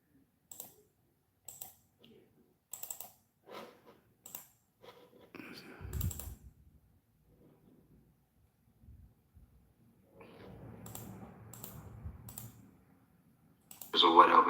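Computer mouse and keyboard clicks come in short separate bursts at a home setup, quiet and close, with a few low murmured voices in between.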